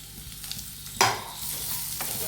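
Beetroot tumbles into hot oil with frying ginger and garlic, giving a sudden loud sizzling burst, then a steady crackling fry as it is stirred, with no talking.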